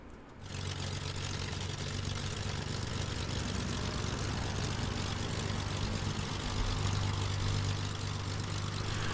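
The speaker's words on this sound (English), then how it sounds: "From external, you'll get your engines up and running." Piaggio P-166 twin-engine aircraft in Microsoft Flight Simulator with its engines running, a steady low droning hum that rises quickly at the start and holds at an even idle-like level throughout, with no voices.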